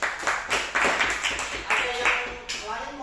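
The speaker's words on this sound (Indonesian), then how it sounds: "Wow, tepuk tangan dulu aja." Classroom applause during a teaching practice lesson, a burst of quick overlapping hand claps from a group, steady and fairly close, with a few voices talking underneath.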